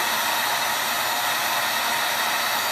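Heat gun blowing steadily while shrinking a fishing rod sleeve, a loud continuous airy roar with no variation and no voices.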